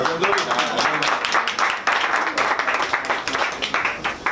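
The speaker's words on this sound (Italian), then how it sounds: "Facciamo un applauso." An audience applauds at an evening of art and readings in a Venice food and wine store. The clapping is dense and steady across the whole stretch, with voices mixed in.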